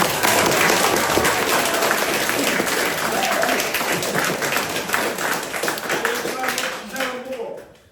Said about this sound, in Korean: 큰 박수로 좀 받으세요.